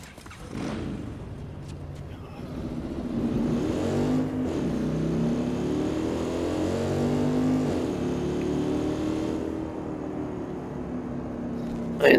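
A motorcycle engine in the video game Watch Dogs 2 drones and revs steadily, rising and falling in pitch as it accelerates, loud and continuous with no talk over it.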